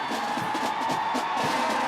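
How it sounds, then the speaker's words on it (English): A huge crowd in New York cheers and roars in a dense, continuous wash of voices, loud and steady throughout with no single voice standing out. "In New York, a huge crowd cheered them on like heroes."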